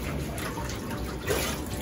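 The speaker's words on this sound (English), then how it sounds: "Let that water out." Water gurgles and trickles steadily as a dog's bathtub drains after a Lhasa Apso's bath, with no voices.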